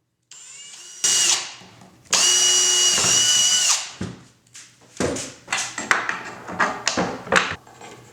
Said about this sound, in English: I'm going to drill a hole a little bit wider than the machine screws that hold them